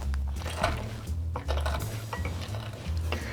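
Jalapeno and cucumber being muddled for a margarita, heard as close, repeated clinking and knocking of a muddler against a glass, with scraping and grinding in an irregular rhythm.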